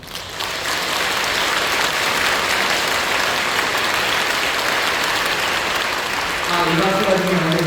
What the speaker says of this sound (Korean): 우리가 칠 수 있는 가장 뜨거운 박수입니다.